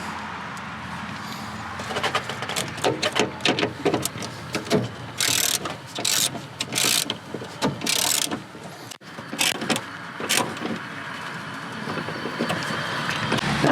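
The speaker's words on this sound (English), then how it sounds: "make them all finger tight before I break out the 10 millimeter socket wrench. And then we're just going to tighten those down." Ratcheting clicks from a 10 mm socket wrench tightening bolts during a windshield wiper motor replacement on a car, coming in short close bursts with brief pauses, no talking.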